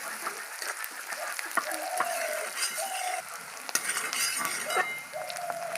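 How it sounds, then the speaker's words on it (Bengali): Steady sizzling of chopped onions browning over low heat in a pan, with occasional light clinks of a utensil stirring. "পেঁয়াজগুলো হালকা আঁচে ভেজে নেব বাদামি করে।"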